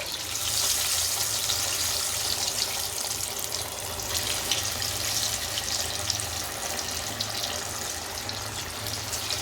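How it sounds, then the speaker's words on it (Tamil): Cluster bean vadas, a batter with fennel, cumin and sago, frying steadily in hot oil, giving a dense continuous sizzle that holds close and fairly loud for the whole stretch with no talking. "இதில் எண்ணெய் காஞ்சிடுச்சு. வடையை போட்டுக்கலாம்."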